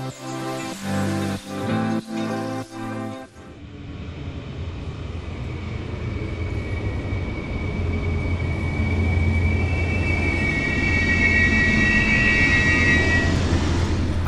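A brand-new LINT 41 diesel multiple unit of the HLB pulls into a station on the line to Fulda, with a rising rumble and a steady, building engine drone that carries on to the end. A few short bursts of noise come just before it.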